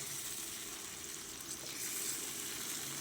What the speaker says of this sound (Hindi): बस इसे मैं मुसलसल चम्मच इसमें हिलाती रहूँगी।